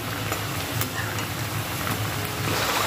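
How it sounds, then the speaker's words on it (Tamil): Kai murukku frying in hot oil on medium heat, a dense continuous sizzle and bubbling with occasional stirring clinks, close and steady throughout. "முறுக்கை போட்டுட்டு ஒரு கிளறி கொடுத்துட்டு மீடியம் கையில் வச்சு தான் வேக விட்டு எடுக்கிறேன்"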